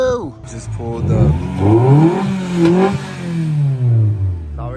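A voice imitates a loud race car engine revving, sweeping up and down in pitch in a few drawn-out, rising and falling vroom sounds close to the mic.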